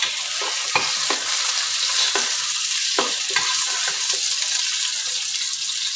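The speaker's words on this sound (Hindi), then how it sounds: "उसी घी या ऑयल में अब प्याज हमने हल्का सा सोते करना है।" Onions sauté in ghee or oil in a pan for a dhaba-style bitter gourd and onion dish, giving a steady close sizzle broken by a few sharp scraping stir strokes, with no talking.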